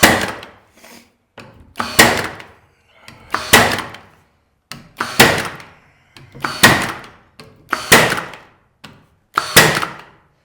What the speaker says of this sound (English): Now, when that door closes, boom, it's got something solid to close up against.